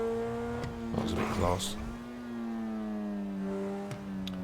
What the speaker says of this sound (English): Yeah, definitely a LaFerrari.